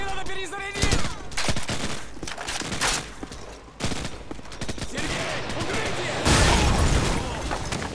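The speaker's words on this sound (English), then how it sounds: "Give me some covering fire." Gunfire in Call of Duty 4: Modern Warfare: dense, continuous volleys of automatic shots and bursts, with brief calls from game characters mixed into the barrage.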